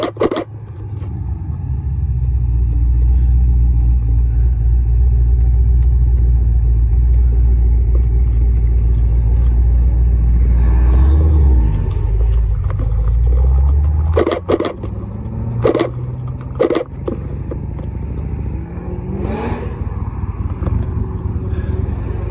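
A Shelby GT500 leaves Oulton Park, its engine a loud, close, deep rumble that holds steady before fading, followed by quieter clatter and lighter passing traffic.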